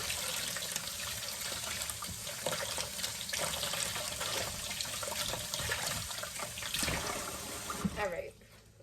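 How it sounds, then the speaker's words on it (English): Water from a kitchen sink tap runs steadily to rinse coffee grounds out of an espresso part, a close, continuous splashing wash that cuts off near the end. "Then you go to the sink and you just rinse it off, because there's like coffee grains inside of it."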